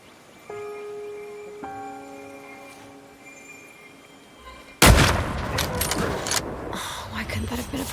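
A hunting gunshot in The Red Lantern cracks out suddenly and loudly after a quiet stretch of soft chimes, followed by a noisy, rustling aftermath.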